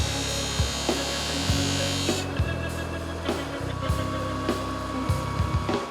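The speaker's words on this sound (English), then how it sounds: "Gonna use some green buffing rouge on a cloth buffing wheel" Cloth buffing wheel with green rouge polishing a forged steel blade, a steady loud whirring rumble with rhythmic thumps and scraping bursts as the metal is pressed against the spinning wheel again and again, no speech.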